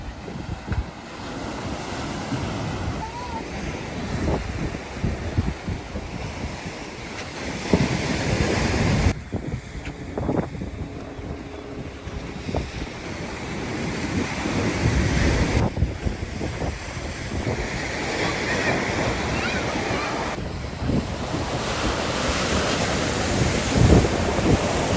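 At the beach at San Clemente, waves break and wash in repeated surges while wind buffets the microphone in a constant rough roar, with no voices.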